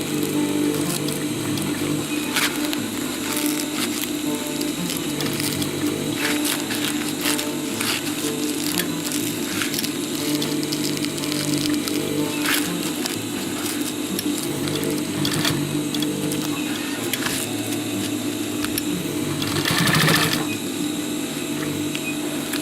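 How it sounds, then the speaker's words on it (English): A sewing machine stitches a tactical utility pouch in a steady, continuous mechanical whir, with needle clatter and small gear ticks running close and loud throughout and no talk. "Give it a few stitches, lift the bottom part and see where you need to go."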